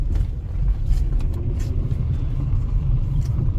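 A Kia Sorento with sagging rear suspension rolls down a gravel back alley, giving a steady low rumble of engine and tyres on loose stones throughout, with faint crunching and no talking.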